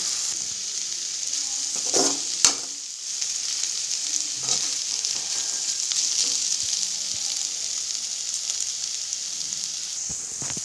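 Potatoes with spices sizzle steadily in a hot pan while a utensil scrapes and stirs through them, with a few sharper knocks early on.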